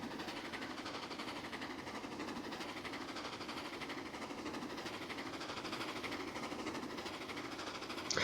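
Steady, even rumble and clatter of a train locomotive running in a Roblox game, a continuous mid-level drone throughout with no speech.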